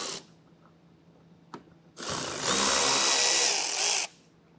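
An electric ratchet spins out fasteners on a 2024 Audi A5 during a hidden hitch receiver install: a short tap, then a loud sustained whir for about two seconds that stops abruptly, with no talking.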